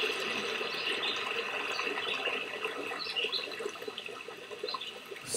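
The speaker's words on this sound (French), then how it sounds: "J'entends le bruit de l'eau" Water flowing steadily along a riverbed, a continuous broadband rush with fine trickling detail, fairly close and alone without voices.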